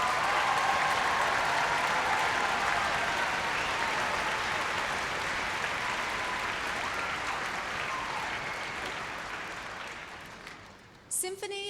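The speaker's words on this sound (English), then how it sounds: "So clap like this and reach over like that." An audience applauds at an awards event honouring the Symphony of 1000. The sustained, dense clapping holds steady for about ten seconds, then thins out and stops near the end.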